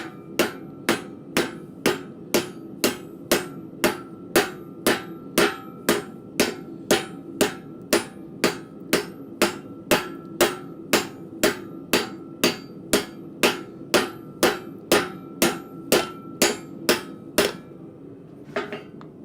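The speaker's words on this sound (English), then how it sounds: "letting the weight of the hammer do its business" Steady, evenly spaced blacksmith hammer blows ring on hot metal in a swage block, about two per second, loud and close, continuing without pause for the whole stretch.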